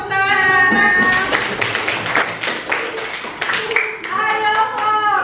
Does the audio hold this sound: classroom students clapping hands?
yes